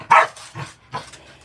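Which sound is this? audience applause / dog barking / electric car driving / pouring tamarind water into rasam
dog barking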